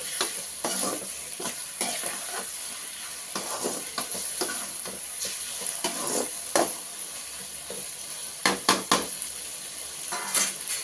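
Chopped tomatoes frying in a pan for a salted-fish curry, with a steady close sizzle and repeated scraping stirs, several sharper clatters of the spoon near the end.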